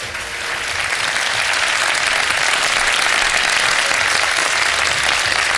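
A studio audience at a Ramadan iftar television show bursts into sustained, dense applause, loud and continuous for several seconds with no speech over it.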